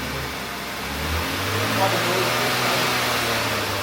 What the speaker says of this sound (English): Just try and keep the revs up.